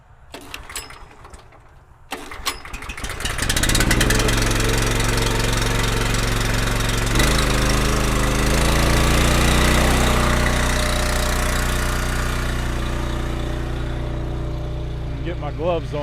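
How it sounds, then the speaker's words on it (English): A gas engine on a log splitter is pulled into life and settles into a loud, steady running drone that continues close by for the rest of the stretch. "The motor started up with 2 pulls, and I hadn't started it yet this morning"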